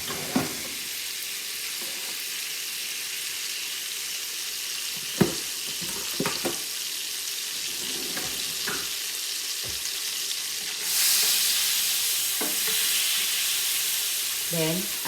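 Four tablespoons of butter sizzle and fry steadily in a pan for a Korean fried chicken sauce, a soft constant hiss with scattered stirring clicks and a brighter burst of sizzle near the end.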